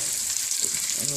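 Green beans hitting a hot pan with chopped garlic, giving a steady bright sizzle and frying hiss that stays loud and even throughout, with faint stirring noises near the end.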